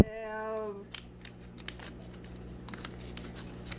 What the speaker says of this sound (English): I'm just scrambling up some paper